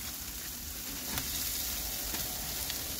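Mushrooms sizzle steadily in a hot pan for a one-pan rice and turkey meal, with the frying hiss sitting at a constant close level and a few brief stirring scrapes on top.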